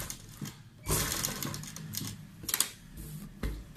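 A sewing machine stitches fabric for a sleeve in short, close bursts of rapid mechanical whirring, separated by brief pauses, with no talking.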